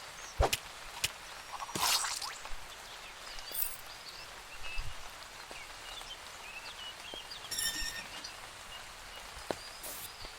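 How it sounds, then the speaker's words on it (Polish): Steady rain patters on surfaces in the video game Starbound, with a few sharper clicks and thuds and brief chirping sounds; no talking. "A ten deszcz w tej grze zaczyna już mnie irytować"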